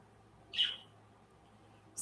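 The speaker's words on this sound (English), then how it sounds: "this bird is crazy." A pet bird giving a short sharp call, one brief bright chirp near the start and another beginning at the very end, close and alone over faint room noise.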